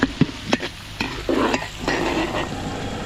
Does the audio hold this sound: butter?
yes